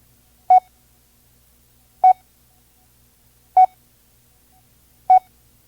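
Four short, identical Morse code beeps for the letter E in a slow 5 words-per-minute training course, each a single clean tone about one and a half seconds apart against near silence.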